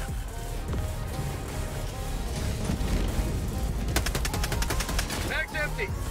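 Machine gun fire in the video game Helldivers 2, sustained rapid bursts of shots with a dense rattling stretch near the end, loud and close, with a voice speaking briefly over the shooting.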